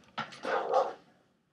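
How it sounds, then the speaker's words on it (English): A dog barks wildly in the background, a short burst of about three loud, echoing barks in quick succession that fade into a brief tail. "never mind the dog going crazy in the background"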